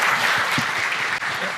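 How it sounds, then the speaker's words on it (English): Crowd applause at a tech security summit, a dense steady wash of many hands clapping from the audience, loud and continuous throughout with a faint voice briefly underneath. "Round of applause."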